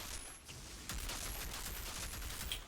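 Sustained gunfire from the Outriders video game, a dense, continuous crackle of rapid shots with metallic sparks, steady and fairly loud with no talk over it.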